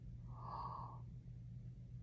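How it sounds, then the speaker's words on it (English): A single close breathy yawn, drawn in for about half a second, demonstrated during a singing lesson on relaxing the tongue; a quiet low hum fills the background afterward. "I'll yawn and let you see what my tongue does."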